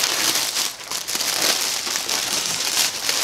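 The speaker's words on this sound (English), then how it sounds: "Sorry for the crinkling." Crinkly plastic packaging around a skein of Rebel Purl yarn in the 5x5 colorway, rustling and crackling steadily and close for the whole stretch, with no talk over it.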